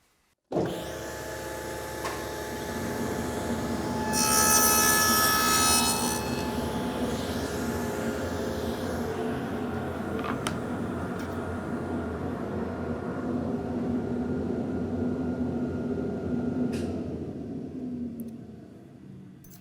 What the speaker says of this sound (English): So I'm going to plug in the table saw, put on my muffs, and make a cut.